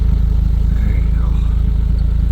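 A loud, rough Nissan Rogue engine idles up close, its uneven rumbling and throaty rattle pulsing steadily through a broken, rotted factory exhaust pipe.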